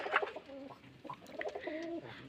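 Rajshahi Giribaz pigeons coo softly at a pigeon farm in a low, rolling series of throaty calls, close by, with faint background noise and no talking.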